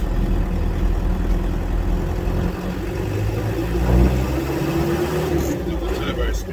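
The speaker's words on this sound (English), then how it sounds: "Got the turbo spinning here." Argo 8x8 amphibious vehicle engine running with its turbo spinning, a steady loud drone and low rumble with a faint rising whine, continuous throughout while someone talks over it.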